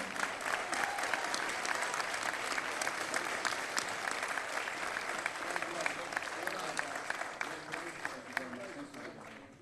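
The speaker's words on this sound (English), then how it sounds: "Give them a round of applause." An audience at a gathering honoring a school team applauds loudly and continuously for nearly ten seconds, dense clapping with faint voices and cheers mixed in, tapering slightly at the end.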